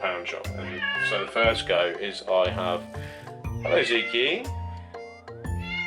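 A cat meows several times, drawn-out and fairly close, while a person keeps talking over it.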